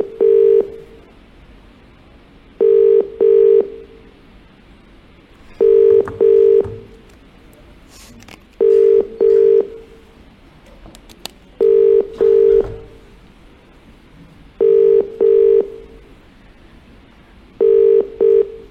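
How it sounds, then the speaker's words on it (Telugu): Outgoing phone call ringback tone, repeating double rings at a regular interval of about three seconds, loud and clear with faint background noise and no talk. "రాజ్ తరుణ్ కాల్ రింగ్ అవుతోంది"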